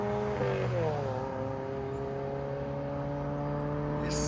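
A 2006 Pontiac Solstice with its 2.4L engine and 2.5-inch straight-pipe exhaust drones loudly and steadily, its pitch easing down slightly early on before holding a smooth, close cruising note.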